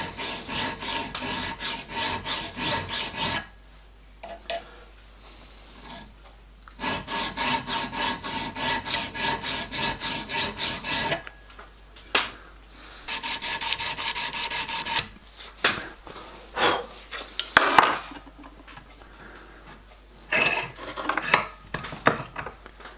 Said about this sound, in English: So we'll just use this fine file to finish it off.